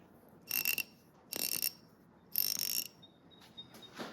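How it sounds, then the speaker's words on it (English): A vintage SK 4275 fine-tooth ratchet clicks in three quick, buzzing bursts of rapid, tightly spaced ticks, followed by a few fainter, lighter clicks, close and clear in a quiet room. "It is a fine-tooth ratchet."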